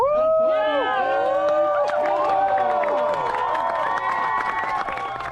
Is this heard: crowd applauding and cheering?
yes